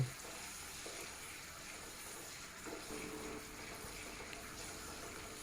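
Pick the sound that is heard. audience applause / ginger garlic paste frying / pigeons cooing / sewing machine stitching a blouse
ginger garlic paste frying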